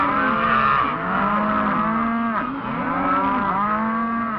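Cattle lowing loudly and continuously during calf branding out on a ranch, a close, drawn-out moo that bends in pitch and swells again, with overlapping calls and no talking.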